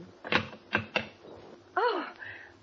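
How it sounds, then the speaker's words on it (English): A typewriter clacks in a few sharp keystrokes spaced irregularly, followed by a longer ratcheting sweep. It is close and fairly faint, in a quiet room from an old radio drama. "I still have some typing to do"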